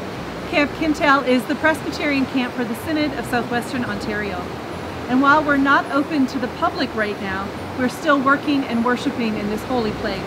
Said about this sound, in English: You can hear the waves behind me and the sun is shining.